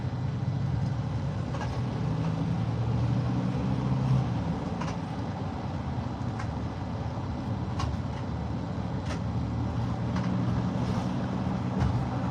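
A car pulls out through the gates of a customs lot, its steady low engine rumble and road noise running continuously and alone at moderate volume.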